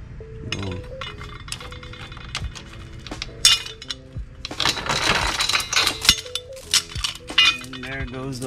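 An old drive chain comes off a Grom clone stunt motorcycle during a sprocket upgrade, with scattered metallic clinks and rattles, close and fairly loud, growing busier in the middle.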